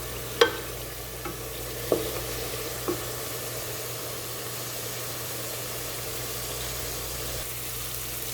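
A quiet, steady sizzle of onions and green chillies frying, with a few faint clinks of a utensil stirring the pan near the start.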